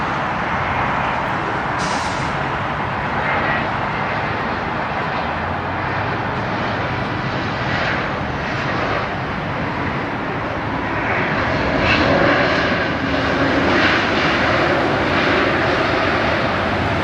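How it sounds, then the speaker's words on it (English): A Volaris Airbus A320neo jet, about three years old, comes in to land at LAX with a continuous loud engine roar that builds toward a peak as it passes nearby. "Next one up is Volaris. Registration XAVRR. It's a 320 Neo, and it's about 3 years old. Coming in from Morelia."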